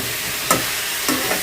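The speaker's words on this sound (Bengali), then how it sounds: "ফুলকপিটা মানে তরকারিটা একটু ভেজে নিলে কি তরকারিটা স্বাদ লাগে" Cauliflower curry frying in a pan gives a steady, moderate sizzle, with two short scraping strokes of a spatula stirring the pieces about a half-second apart.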